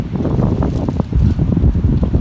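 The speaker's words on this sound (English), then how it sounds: "Trying to keep this wind down. Yeah, there's a lot of wind." Strong outdoor wind buffets the microphone during a relic dig in Virginia, a loud continuous low rumble with gusty surges and no talking.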